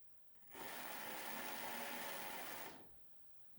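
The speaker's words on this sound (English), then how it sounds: "fire up the lathe, drop this in" A mini lathe spins up and runs steadily for about two seconds, a smooth, fairly loud broadband whir with a faint high whine, then winds down to quiet.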